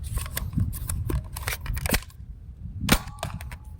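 A Nerf N-Series blaster fires darts during a test, giving several sharp, close snapping pops in quick succession, then a short quiet gap and one more loud shot.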